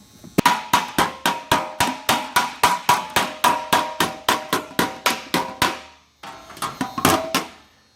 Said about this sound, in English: Now Paul is planishing with another hammer that he made himself.